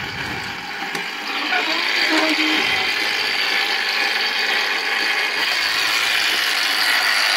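A Gamewell fire alarm master box runs its gear mechanism after being pulled, giving a loud, steady mechanical whir and ratcheting clatter that continues throughout without talk.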